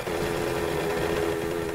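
Motorbike engine running in the 7 Days to Die video game, a steady buzzing drone held at an even level without a break.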